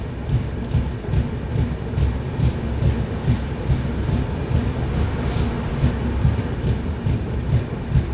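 A New Delhi to Malda Town express train rolls slowly into Raebareli station in the early morning, heard from the doorway as a continuous close rumble with rhythmic clickety-clack of wheels over rail joints.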